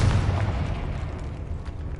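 The Confringo explosive spell goes off in a video game as a loud, deep boom at the start, then fades into a rumbling tail that trails away over about two seconds.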